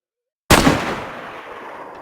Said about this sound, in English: Perfect shot, some great sniping from our volunteer.